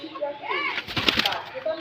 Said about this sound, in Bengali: আকাশি কালার রাসগোল্লা কবুতরটা ডাকটা দেখাই